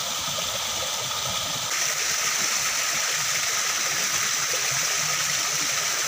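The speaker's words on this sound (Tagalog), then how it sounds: "Ang ganda paggawa itong waterfall na ito." Water pours steadily down a man-made rock waterfall into a pool, a continuous close rushing splash with no talk over it.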